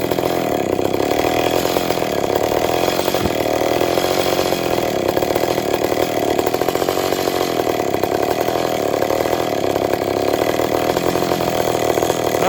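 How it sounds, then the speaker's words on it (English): A ported McCulloch Pro Mac 850 chainsaw idles in deep cold, a loud, continuous buzzing drone with a fast, even engine pulse that holds steady and close throughout, with no voices. "I noticed that's how this saw idles."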